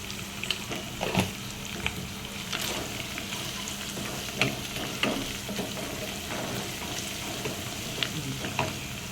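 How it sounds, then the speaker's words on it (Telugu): Capsicum frying with turmeric in a pan gives a continuous close sizzle, broken by clinks and scrapes of stirring at irregular intervals. "దీంట్లో క్యాప్సికమ్ వేసేసుకొని ఫ్రై చేసుకుందాం"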